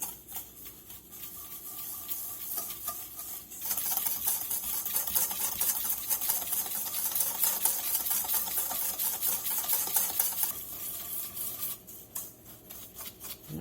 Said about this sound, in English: then we're going to whisk this together